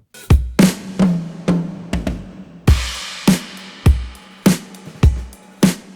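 Acoustic drum mix built from sampled snare, toms and left-right overheads, a steady loud groove of punchy kick and snare hits at a moderate tempo, with toms panned across the stereo field and no voices.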